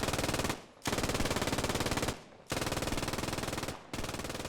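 MG42 machine gun in the game Post Scriptum hammering out three long, loud, rapid bursts at close range, separated by brief pauses, with no voices.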